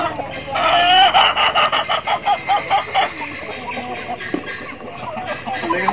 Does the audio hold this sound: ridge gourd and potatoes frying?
no